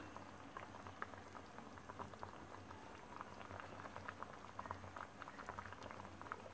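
A pot of mullikkai tamarind curry bubbles at a steady simmer, with soft continuous popping and gurgling heard close up and no voices.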